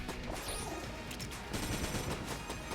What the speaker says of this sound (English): those explosions are pretty brutal